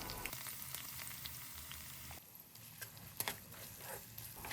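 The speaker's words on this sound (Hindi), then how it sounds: "जब तक अनियंस फ्राई हो रहे हैं" Onions fry in a pan for a veg dum biryani, giving a faint, continuous crackling sizzle with scattered sharper pops throughout.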